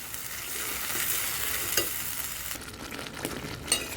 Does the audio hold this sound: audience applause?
no